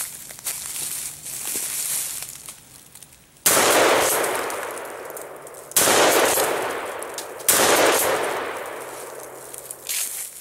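Three loud shotgun blasts from an 18-inch Remington 870 firing slugs into a tree outdoors, each a sharp boom with a long decaying echo, spaced roughly two seconds apart after a stretch of quieter background.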